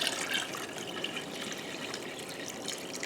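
Warm water poured from canning jars into a canning pot, a steady, soft splashing trickle that runs on continuously and fairly quietly, with no voices.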